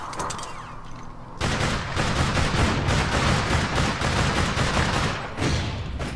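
Rapid gunfire in the APB Reloaded video game: loud, dense bursts of automatic shots rattling almost continuously, with a quieter stretch before the heavy firing starts and a short break near the end.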